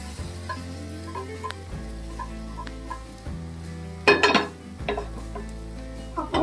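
Fried eggplant sizzles softly in a pan while being stirred, with a burst of louder crackling midway and a steady low hum underneath; no talking.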